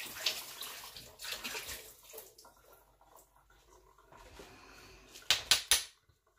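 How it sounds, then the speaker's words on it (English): Artichokes are rinsed under a running kitchen tap, water splashing and gurgling unevenly with a few sharp louder splashes near the end before it cuts off. "I'm just going to rinse this under water to get any of those straggly hairs out."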